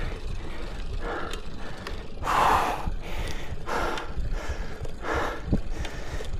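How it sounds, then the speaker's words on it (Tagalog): A cyclist climbing a steep hill, heavy rhythmic panting breaths up close, each gasp rising and falling over the clicking of a bicycle's freewheel ratchet and road noise. "narinig yung hingal ko"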